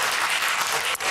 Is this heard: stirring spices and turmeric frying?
no